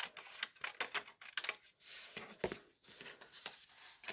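Scissors snip through a 12x12 sheet of paper in a quick series of crisp, close cuts, irregular in rhythm with brief pauses between strokes.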